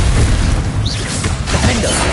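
Bombarda spell explosion in the Hogwarts Legacy video game, a loud, dense boom with crashing debris filling the whole moment, close and overwhelming with no talk over it.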